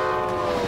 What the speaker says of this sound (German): Da fährt der Zug durch einen Berg.